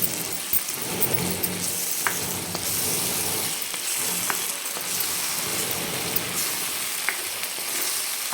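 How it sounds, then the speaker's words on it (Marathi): Onion and cashew paste sautéing in a pan for kaju curry, a steady close sizzle with occasional light clicks of stirring, alone without voices. "एक मिनिटभर फक्त परतून घ्यायचं"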